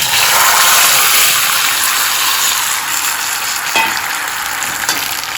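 Tamarind sautés in a hot pan with a loud, continuous sizzle and crackle. The frying hiss holds steady, broken only by a couple of faint stirring scrapes.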